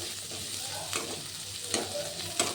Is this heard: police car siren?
no